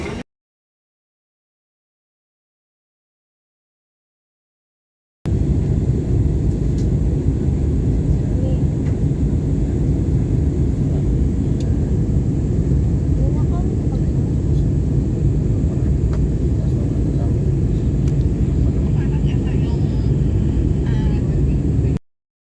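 Airplane engine rumbling steadily and loudly from inside the cabin, a dense continuous drone that starts abruptly after several seconds of silence and holds without a break to the end.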